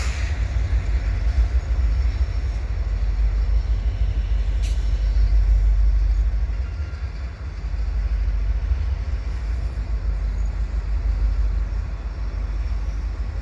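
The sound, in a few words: CN eastbound freight train speeding up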